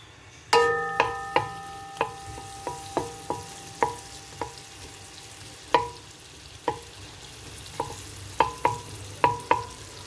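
Onion frying in butter with blended tomato and dry chili for a homemade tomato sauce, with a soft steady sizzle under a long series of sharp, ringing spoon knocks against the pan.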